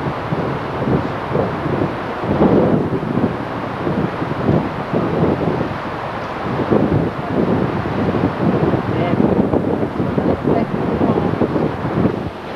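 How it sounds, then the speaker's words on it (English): Strong wind gusting loudly against the microphone outdoors in Mozambique, a continuous rough roar with rising and falling buffets and no let-up. "try and block out this terrible wind that we're having"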